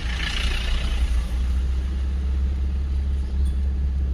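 A car engine pulls away in first gear during a driving lesson, with light pressure on the accelerator. The tone is a steady, close, low rumble at an even level throughout, with no voices heard.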